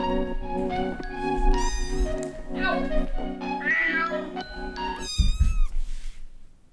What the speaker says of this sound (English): These cats are just roaming, dude. Look at these things.